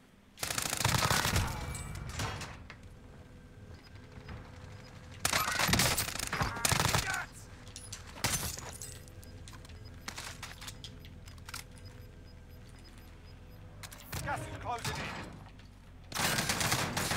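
Gunfire in Call of Duty Warzone comes in several loud rapid bursts, separated by quieter stretches of lingering shots, with a voice briefly heard along the way.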